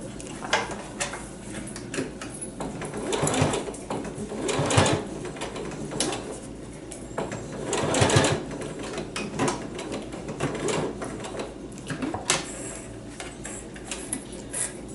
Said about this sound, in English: And then we're going to sew that on.